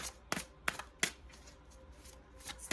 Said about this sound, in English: This deck is monstrous. It's very difficult to shuffle.